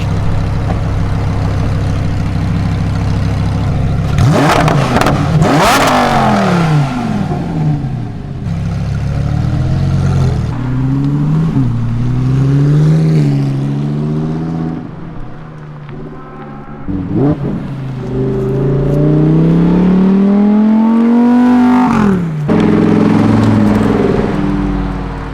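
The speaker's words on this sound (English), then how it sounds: "Let's hear some crazy but refined exhaust sounds." Lamborghini Huracán STO exhaust, loud and close, with several sharp revs that rise and fall between stretches of deep idle, standing alone without talk.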